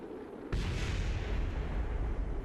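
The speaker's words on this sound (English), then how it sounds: "And there goes the rocket. It overheated. Fuel tanks just went bye-bye." A rocket blows up in the video game Kerbal Space Program after overheating: a sudden loud blast opens partway through, then rolls on as a sustained heavy roar and rumble with no talk.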